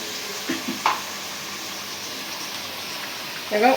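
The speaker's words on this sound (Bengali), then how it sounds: "আদা রসুন আমি একসাথে আদা রসুন বেটে রাখছি এটা দিয়ে দিলাম এখন মশলাটা ভালো করে কষায় নিব" Ginger and garlic masala fries in a pan with a faint, steady sizzle, broken by a few soft clinks of stirring near the start and end.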